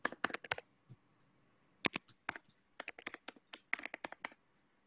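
Someone types an email on a computer keyboard, producing crisp, close key clicks in quick bursts separated by short pauses, alone in a quiet room.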